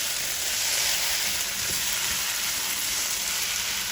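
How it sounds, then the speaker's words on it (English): Onions sauteing on high heat in a pan for French onion soup give a steady, even sizzle, a dense continuous hiss that holds at the same level throughout with no talk over it. "we're gonna keep sauteing until it starts to caramelize."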